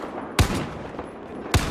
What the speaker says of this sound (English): I'm gonna take them out with the sniper rifle